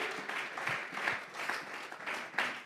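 Church congregation applauding during a worship service, a steady wash of many hands clapping at moderate distance, swelling in small waves throughout, with no voices standing out.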